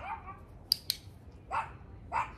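A pet dog barking at home, a few short sharp barks spaced apart, faint and somewhat distant, with a brief voice nearby.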